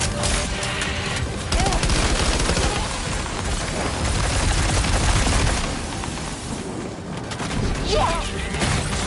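Gunfire in the video game Death Stranding, dense rapid bursts and booming impacts in a loud continuous barrage with brief lulls, shouting voices mixed in.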